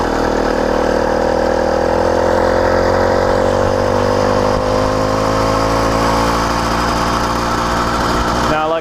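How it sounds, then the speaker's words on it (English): A brand new CDH110 110cc motorized bicycle engine with a 52mm iron sleeve idles close by, putting out a steady, loud chugging drone that holds at an even pace for about nine seconds before cutting off at the very end. "For a brand new motor to just chug away like that"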